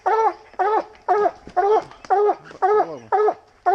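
A coon hunting dog at a tree gives rapid, evenly spaced whimpering yips and barks, about eight close, loud calls in quick succession with no talk.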